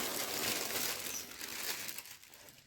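A plastic bag that has already been cut open crinkles and rustles during the unboxing of a cross-stitch kit parcel. The sound is a close, dense crackling that thins out over a couple of seconds.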